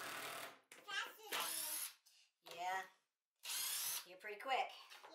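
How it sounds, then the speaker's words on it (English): Screws are driven into the fence of a wooden table saw miter sled, giving several loud, close drill bursts that whine up in pitch, separated by short silences, with a voice-like sound mixed in. "So I put a few more screws in the fence to lock it in place for good."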